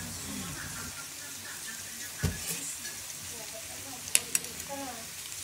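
Sweet potato (camote) chunks frying in oil with sugar and stirred in a pan, giving a soft continuous sizzle broken by a few sharp scrapes and clinks of the utensil.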